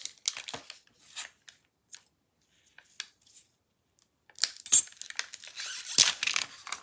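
Crinkling and tearing of a plastic package as it is peeled open from a Michaels clay slab, close and intermittent, with a quiet pause midway before a louder burst of rustling.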